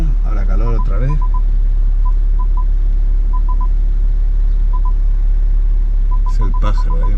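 Parking sensors on a BMW X6 40d emit short, sparse beeps inside the cabin over a loud, steady engine rumble, with brief warbling chirps near the start and end.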